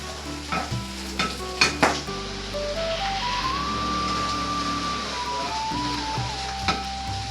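Mustard seeds and cumin sizzling in hot oil as the base for a moringa leaf curry: a loud, steady, close frying hiss with a few sharp crackles, over soft background music.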